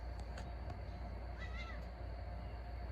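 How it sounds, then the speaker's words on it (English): Cats fighting yowl briefly a few times over a constant low mechanical hum, fairly faint. "I think we're gonna have a cat fight"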